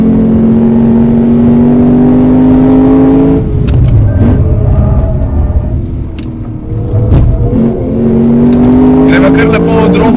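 A Japanese car's rough, untamed-sounding engine revs hard on an Italian race track, rising in pitch, dropping back through a gear change and climbing again, loud and close throughout.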